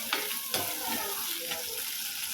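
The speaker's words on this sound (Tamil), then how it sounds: "நல்லா வெங்காயத்தை வதக்கி விட்டுக்கலாம்." Small onions sauté in a pan for Chettinad chicken, with a steady close sizzle broken by a few scraping stirs of a spoon against the pan.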